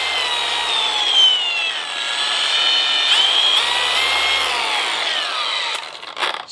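A Milwaukee M18 cordless dual action polisher, 15mm orbit, model 2684-20, runs free with a high whirring motor tone that shifts in pitch as it speeds up and slows, close and loud, then winds down.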